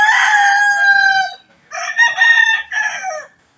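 A rooster crows up close on a farm with a long, loud call, then after a short pause crows again in broken segments, clear and alone.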